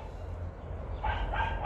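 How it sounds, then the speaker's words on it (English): A few short barks from dogs next door, faint and distant, heard outdoors in a garden against a low background rumble. "We have dogs next door barking"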